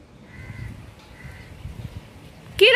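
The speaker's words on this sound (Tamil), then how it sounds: "காக்கா வரட்டுறீங்களா?" A crow caws once near the end, loud and close, after a quieter stretch of faint outdoor background with a couple of soft distant calls.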